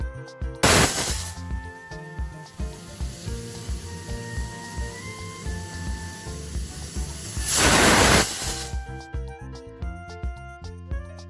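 A pressure cooker of potatoes on a lit gas stove lets out two loud, rushing steam whistles, one near the start and one near the end, over steady background music.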